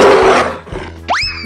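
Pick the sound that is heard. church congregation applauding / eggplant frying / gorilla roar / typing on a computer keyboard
gorilla roar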